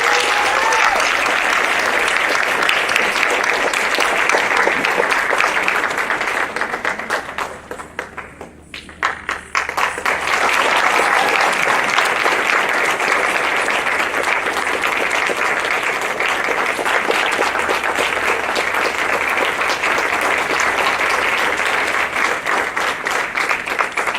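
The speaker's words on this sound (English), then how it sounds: "Let's give another round of applause." An audience applauds steadily and loudly after a Bharatanatyam dance recital, a dense continuous clapping that dips briefly near the middle, then surges back and carries on.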